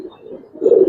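A Giribaz pigeon gives a short, soft coo that swells louder near the end, close by with no talk over it.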